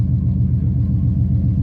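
A 1971 Plymouth Satellite wagon's engine idles low and steady while the car reverses, a close, continuous deep rumble with no speech over it.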